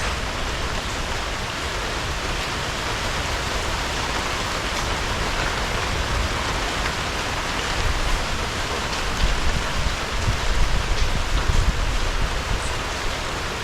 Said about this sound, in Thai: ฝนเบาๆไม่มีลมอย่างนี้ก็ไม่มีปัญหาใดๆครับ